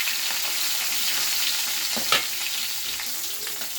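Fish fries in hot oil in a pan over a high gas flame, giving a loud, steady sizzle with one brief sharper crackle midway and no talk.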